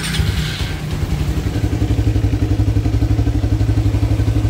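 A motorcycle fitted with an Aracer Mini X ECU fires up and settles into a steady, throbbing idle, close and loud with a rapid even pulse and a little mechanical clatter.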